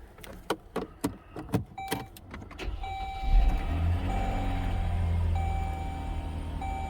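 A car engine, one with a history of spark plugs fouling on one bank, idles smoothly with no misfire. It follows a few sharp clicks and clunks, then settles into a steady, close, even hum.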